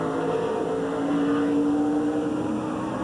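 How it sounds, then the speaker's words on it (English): Onboard a Chevy Monte Carlo stock race car, its engine drones loud and close, a dense rumbling roar with a rising then easing tonal pitch as the throttle is worked. "Let's go on board and listen to the engine."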